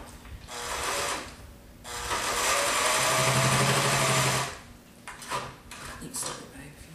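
A sewing machine runs in two bursts stitching a handbag seam for a satchel, with quieter handling and clicking sounds between the runs.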